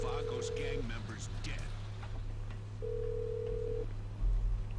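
In the video game GTA 5, a phone rings twice as two short, even electronic tones. A low steady hum sits underneath, and a voice talks briefly around the first ring.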